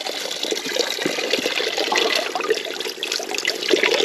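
Cold spring water flowing steadily from a spring beside a bike touring route during very dry weather, a continuous close splashing rush with no voices.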